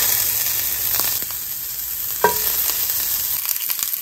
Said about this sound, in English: Next, we're going to saute some of the broccoli.